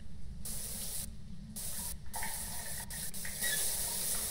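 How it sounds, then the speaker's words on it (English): A ghost-triggered shower runs in the Phasmophobia video game, giving a loud, steady spray hiss that cuts out briefly several times before swelling brighter near the end. "Oh, it turned this shower on too?"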